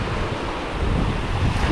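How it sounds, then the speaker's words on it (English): Ocean surf rolls steadily onto the soft sand of Sanibel beach as the tide comes in, a continuous wash of waves with wind buffeting the microphone. "Tides is coming in."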